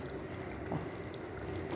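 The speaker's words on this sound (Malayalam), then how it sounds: "ഇനി ഞാൻ 1-ാം പാലും കൂടെ ഇതിനകത്തോട്ട് ഒഴിക്കുക" Thick first coconut milk poured into a simmering mango and prawn curry, giving a soft, steady liquid pour that runs evenly and quietly from start to finish, with no talk over it.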